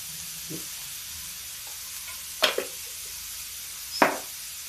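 Asafoetida, cumin and fennel fry in hot oil for a black-eyed pea curry, giving a constant soft sizzling hiss with a few sharp clinks of a spoon against the pan.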